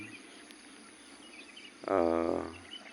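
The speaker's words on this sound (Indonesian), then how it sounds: "ada suara ya jangkrik" A faint cricket trill hums in a quiet outdoor background, then a brief louder chirping burst rises near the end before fading.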